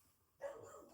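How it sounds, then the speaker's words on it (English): A pet dog barking in the background of a home on bonfire night: a single short, faint, muffled bark in a quiet room. "excuse my dog barking in the background"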